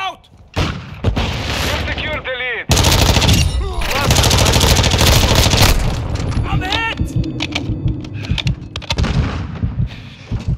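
Heavy gunfire in Call of Duty Modern Warfare 2 during a Team Deathmatch on the Shoot House map, loud sustained bursts and rapid volleys with brief gaps, mixed with in-game voice callouts.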